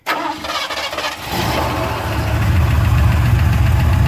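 A 1966 Buick engine, freshly rebuilt, cold starts: a brief crank, then it catches and settles into a loud, steady rumbling idle close by.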